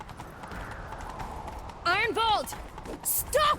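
Horse hooves clip-clop at a gallop in The Witcher 3: Wild Hunt, a rapid rhythmic thudding running through the clip beneath a voice speaking loudly.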